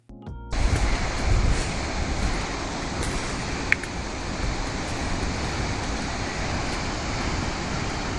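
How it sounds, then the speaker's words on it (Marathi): A 442-foot white waterfall pours down through lush green surroundings in Hawaii, heard as a constant, broad roar of rushing water that fills the scene, mixed with some wind buffeting the microphone, with no voices. "सगळीकडे ही हिरवळ आणि त्यामधून 442 फीट उंच जोरात पडणारा हा पांढरा धबधबा."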